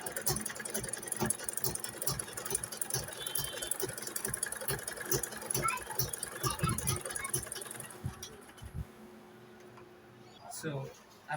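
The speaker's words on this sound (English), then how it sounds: "So I'm going to bring this like so and sew all the way." A sewing machine stitches a pocket seam with a rapid, even mechanical chatter for about eight seconds, then stops, with a few handling knocks after it; a voice speaks throughout.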